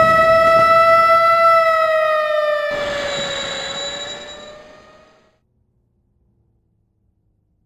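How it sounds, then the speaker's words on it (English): In the video game RAD Robot Alchemic Drive, a train pulls into a station with a loud, sustained tonal whistle-like horn that shifts pitch and fades out, leaving silence. "Arriving on track 1 is a local train bound for Isenjo."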